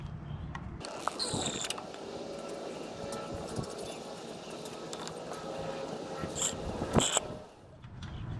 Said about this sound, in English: So I'm going to be sucking out the brake fluid again.